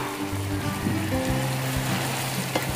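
Broccoli dropped into a pan of sizzling garlic, giving a steady, close hiss and crackle with a few soft clatters and a low background hum.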